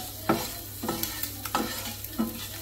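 Spices and salt being stirred into food in a pan, with a handful of distinct spoon scrapes spaced about half a second apart over a soft, steady sizzle, fairly close and with no voices.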